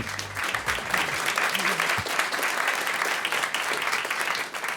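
An audience at a live radio show taping applauds guests humorist Patricia Marks and cartoonist Roz Chast, dense sustained clapping after a brief low voice at the start.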